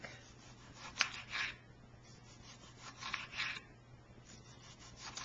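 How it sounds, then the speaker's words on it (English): A knife slices through tomatoes on a cutting board, producing faint, soft crunching cuts and light knocks in small irregular clusters against a quiet background. "And then you want to slice them about 1/4 inch thick."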